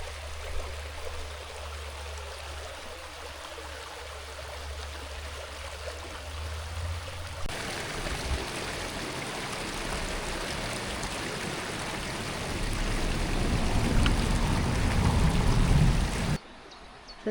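A stream flows steadily beside a campervan stopover in Germany, a continuous close rushing of water that grows louder and fuller partway through, with no voices.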